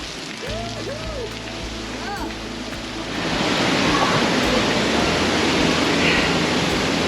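Waterfalls in a gorge rush with a steady broadband roar that swells and grows louder partway through, with faint bird chirps early on.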